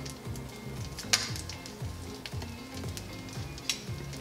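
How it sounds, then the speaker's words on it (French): Fish fillets dropped into melted butter in a pan over medium heat, a close, steady sizzle and crackle with small pops and a rhythmic low clatter, no voices. "Le beurre est fondu, il frétille, c'est le moment de mettre les filets."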